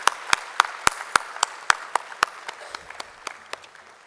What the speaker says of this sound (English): Can we have a loud round of applause for Mr.